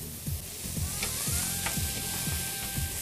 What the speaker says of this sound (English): Flip our steak over.